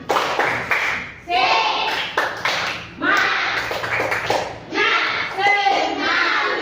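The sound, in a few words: children clapping a rhythmic spirit clap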